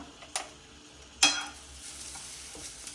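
Coriander, cumin and fennel seeds dry-roasting in a pan, with a few sharp scraping stirs over a faint, steady crackle, close and quiet with no talk.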